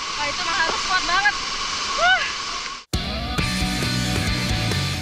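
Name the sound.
horsetail waterfall Curug Lewi Letak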